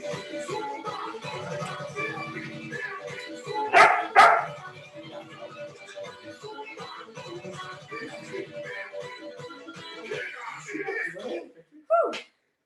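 Dogs bark and yip during a live cardio and strength workout at home, with a couple of loud bursts in the middle and one near the end, over steady talk and background music.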